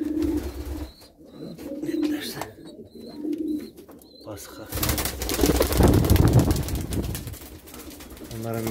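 Domestic pigeons being fed at night in their loft, soft cooing at first and then a louder stretch of fluttering, shuffling and pecking as they move about, close by, with a voice speaking briefly.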